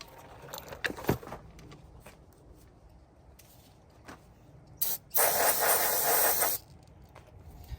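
A spray can hisses in one sustained burst lasting over a second, preceded by a brief short spurt and some scattered clinks and handling noises.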